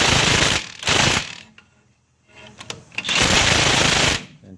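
Ratchet wrench snugging the brake bolts on a 1990s GM Chevy/GMC truck front axle, giving two loud, close bursts of rapid clicking separated by a quiet pause with light handling sounds.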